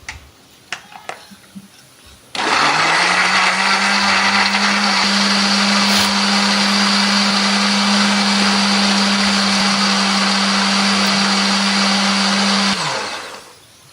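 A few light clicks and taps, then a blender whirs to life with a loud steady grinding hum for about ten seconds, grinding tomatoes, chilies and shallots with a little water, before winding down.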